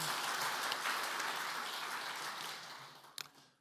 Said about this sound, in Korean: 은혜로운 말씀을 들으신 목사님께 감사의 박수를 드리겠습니다